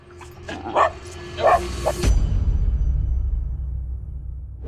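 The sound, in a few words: reactive border terrier dog barking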